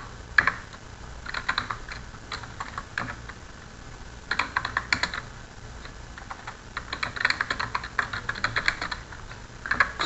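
Bursts of rapid keyboard typing, clicking in quick irregular runs with short pauses between them, fairly close and clear.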